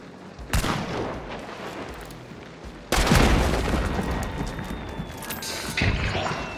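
Shotgun blasts go off in a video game firefight, two sharp heavy booms followed by dense sustained gunfire and rumbling, loud and close with no speech.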